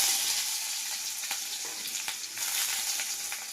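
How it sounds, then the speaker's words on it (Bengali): Chopped onions fry in hot oil in a wok, producing a continuous close sizzle with a few sharp crackles and spatters and no voices. "এবার একটু ভেজে নিলাম"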